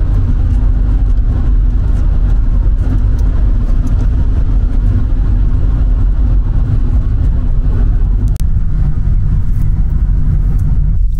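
A car drives along a road in Wales, heard from inside as a steady low engine rumble and road roar that continues throughout without pause.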